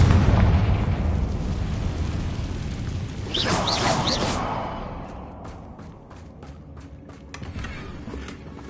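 A Confringo spell in the Hogwarts Legacy video game bursts into a loud, close explosion with a rumbling boom that fades over several seconds, followed by scattered crackling debris.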